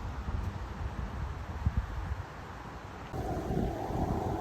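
Wind rumbles and buffets the microphone outdoors during a bicycle ride in South Korea, growing stronger and more constant partway through, with no one speaking.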